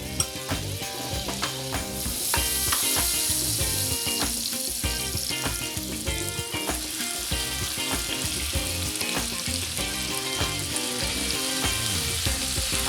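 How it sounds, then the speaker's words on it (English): Monkfish searing in olive oil and butter sizzles loudly and close up, with a busy crackle and irregular clicks and scrapes of the pan running throughout. "And you press a little bit of fish so it gets seared very well."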